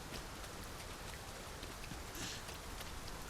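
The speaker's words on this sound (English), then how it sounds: "Must it rain now? Let us find cover ere the water enters our boots." Steady rainfall in the video game Dragon's Dogma 2, an even, faint hiss of drops pattering on surfaces with no breaks.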